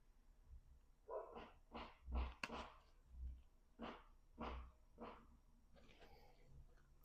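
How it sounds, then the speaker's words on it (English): Dogs barking outside, heard as a series of muffled, distant barks in an irregular rhythm, faint under a low background rumble. "And the dogs always bark."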